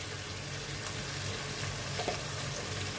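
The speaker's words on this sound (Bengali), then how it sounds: "এগুলো দিয়ে খুব ভালোভাবে আমি আবার কষিয়ে নিচ্ছি" Chili, turmeric and ginger-garlic paste frying in hot oil for a fish masala curry, a dense, even sizzle that holds steady throughout, close up with a brief stirring scrape and no talking.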